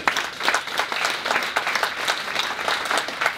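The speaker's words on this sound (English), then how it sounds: "big round of applause on that" A crowd applauds at a Voices of Cancer fundraising event, a steady dense patter of many hands clapping at close range.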